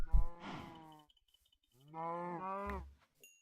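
A cow in the video game Minecraft lets out two long, drawn-out moos separated by a brief silence, loud and close with a short thump at the start.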